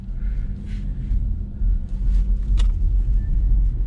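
A 2021 Ford Mustang Mach-E electric car rolls at low speed, giving a steady low rumble of road and tire noise with a faint whine above it and no engine roar.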